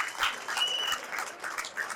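A crowd at a Kannada film audio launch event applauds as a guest is called onto the stage, steady moderately loud clapping with no talk over it.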